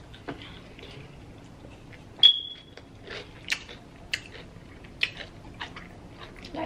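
Crunchy bites into kosher-style pickles with a hot sauce mixture, heard as a handful of sharp, close crisp crunches spaced irregularly over quiet, with one brief high tone near the start.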